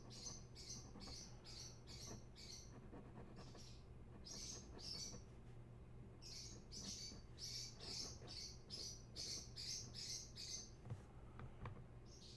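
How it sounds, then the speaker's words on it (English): Small birds chirp outdoors in quick bursts of high, bright tweets repeating through the whole stretch, faint and somewhat distant over a low steady hum. "And you can hear the birds agree with me."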